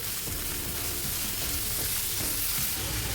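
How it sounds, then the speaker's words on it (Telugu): Carrots and green peas frying in a pan for carrot rice, a loud dense hissing sizzle that fills the whole moment, steady and close with no voices over it. "ఒకసారి మిక్స్ చేసుకుందామండి క్యారెట్ బఠానీలు కాస్త ఫ్రై అవ్వాలండి"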